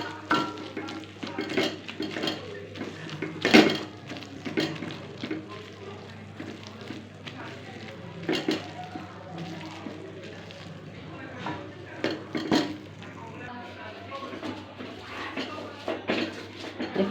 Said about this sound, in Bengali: এখন আমি এটাকে ডাল বেটনের সাহায্যে গালিয়ে নেব